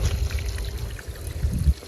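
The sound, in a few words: water being poured for washing clothes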